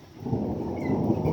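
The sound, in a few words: thunder from a thunderstorm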